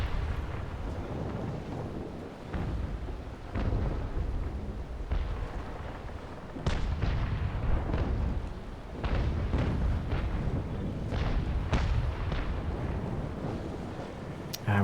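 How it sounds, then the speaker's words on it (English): Deep booms of distant naval cannon fire in the video game Naval Action thud irregularly over a low, windy rumble, no voices present. "Oh, I love the sound of the cannons,"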